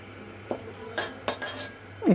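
A metal utensil clinking against a pan while a bay leaf fries, a few brief separate clinks and scrapes over a quiet low hum, close by.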